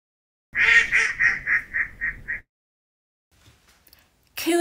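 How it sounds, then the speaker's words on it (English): A duck quacks seven times in a quick, evenly spaced run, loud and close, followed by quiet and a brief later sound. "Quack, quack, quack, quack, quack."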